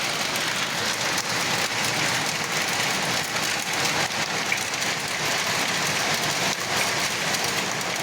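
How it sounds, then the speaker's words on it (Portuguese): Heavy rain, with hail reported, falls steadily and loudly on surfaces in Chapadão do Sul, a dense unbroken wash of close downpour with no voices. "E além dessa chuva forte, nós também temos o registro de queda de granizo lá em Chapadão do Sul."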